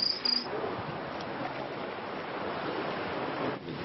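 A dense, steady high-pitched trill from a pair of crickets aboard a boat fills the clip continuously over a broad wash of background noise.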